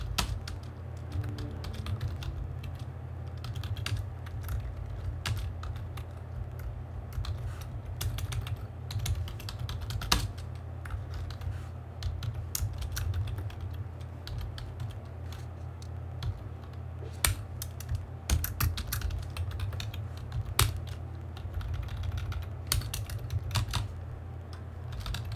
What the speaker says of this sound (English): Oops, I can type.